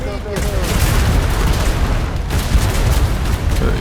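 Heavy naval guns fire in a warship battle game, a dense, loud barrage of booming blasts that rolls on continuously with no gaps, with voices faintly underneath.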